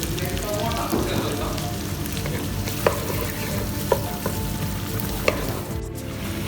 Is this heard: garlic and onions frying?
yes